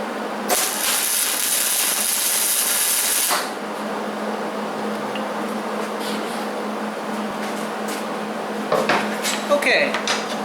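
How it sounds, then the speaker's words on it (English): A spot weld on a metal wireframe for a Christmas light display gives a sharp, loud buzzing hiss lasting about three seconds, then fades to a quieter hum with faint clicks and handling noises. "we're going to go ahead and put a quick spot weld on here"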